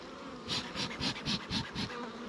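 Bees buzz in rapid pulsing bursts, about seven swells of droning hum in quick succession, close and fairly loud, during an attack by bees.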